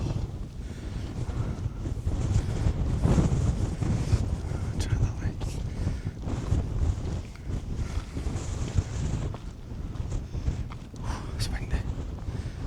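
Strong wind buffets the microphone on a hike around Pendle Hill, a loud continuous low roar with gusts, while people talk briefly over it.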